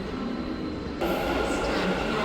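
Rumbling metro train noise at Peenya metro station in Bengaluru, a broad steady roar that grows louder partway through.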